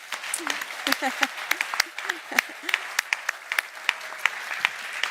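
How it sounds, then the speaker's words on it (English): Applause at a climate adaptation event at the Global Center on Adaptation in Nairobi, welcoming Ban Ki-moon: sparse, distinct hand claps ring out irregularly over murmuring voices, moderately loud and close. "you help me to welcome with a big applause His Excellency Ban Ki-moon"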